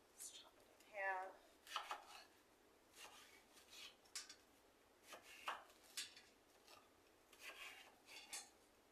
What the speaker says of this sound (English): let's go ahead and chop up our onion